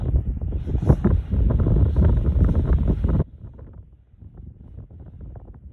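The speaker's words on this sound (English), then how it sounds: "I actually did another clip of the sound in the 4Runner sleeping that night with the wind just whipping through there" Wind whips around a 4Runner at night while someone sleeps inside on a car-camping trip, roaring loudly in gusts at first, then dropping abruptly to a softer, fluttering rumble.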